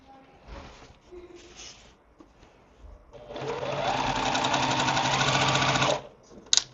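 A sewing machine stitches quilt pieces for a beginner Liberty box quilt, first in a few short tentative bursts, then in a loud steady run of rapid needle clatter lasting nearly three seconds before stopping with a couple of clicks.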